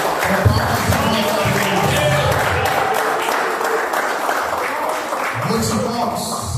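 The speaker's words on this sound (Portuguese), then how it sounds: "Glorifica a Deus bem forte, com palmas e glória a Deus." A church congregation at a Sunday service claps loudly for God, a steady broadband wash of hands throughout, with a voice speaking over the clapping at moments.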